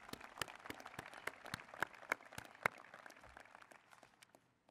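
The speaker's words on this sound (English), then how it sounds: "Let's give these folks a round of applause one more time." An audience applauds at a university presidential inauguration at Radford, with dense, steady clapping that thins out and fades near the end.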